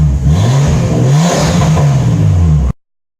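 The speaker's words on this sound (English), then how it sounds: "It's just been sitting, so I thought I'd let it idle." A Nissan Skyline R33 engine runs loud and close, its tone rising and falling in short revs over a steady idle before cutting off abruptly.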